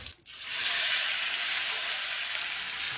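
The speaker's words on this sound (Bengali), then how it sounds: "বাটার দিয়ে মাছ ভেজে ফেলছে" Sarpunti fish fry in butter with a loud, continuous sizzling hiss that starts after a brief pause and holds steady throughout, with no voices.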